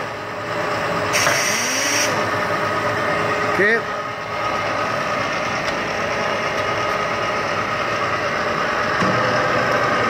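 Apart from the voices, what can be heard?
Willis Series II knee mill motor running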